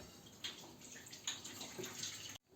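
Whey is poured off and drains away while Hutsul budz cheese is made, a close trickling and splashing of liquid for about two seconds before stopping abruptly.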